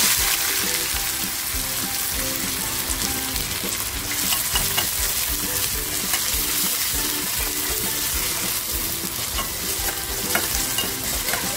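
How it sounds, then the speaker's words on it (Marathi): Sliced onion sizzling in hot oil in a pan for a prawn masala, a loud continuous crackling fry with constant stirring noise throughout, close up with no one speaking. "तेल छान तापलं ना की आपल्याला कांदा टाकायचा आहे"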